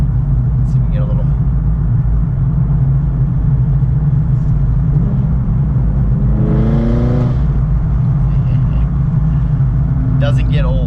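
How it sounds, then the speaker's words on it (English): A Camaro ZL1's stock exhaust gives a deep, constant engine rumble that fills the clip, with one rising rev swelling briefly in the middle before settling back. "This has a really nice stock exhaust."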